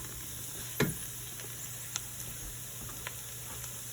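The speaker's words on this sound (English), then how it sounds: "I'm going to crank the heat up to a medium-high temperature. I'm going to add our sausage." Sausage going into a hot pan over medium-high heat with sweated vegetables: a faint, steady sizzle with a soft clatter near the start and a few small pops and ticks, no talking.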